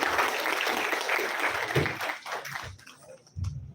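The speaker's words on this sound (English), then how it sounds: "Give him a big round of applause, guys." Applause from a conference audience at an engineering college gathering, a dense burst of clapping that thins out and fades before a brief final flurry.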